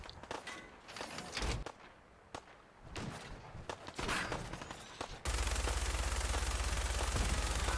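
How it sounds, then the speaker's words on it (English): An explosion in the video game Fallout 4 follows scattered sharp impacts and thuds, ending in a loud, sustained roar of broadband noise that holds steady to the end. "that was a pretty explosion"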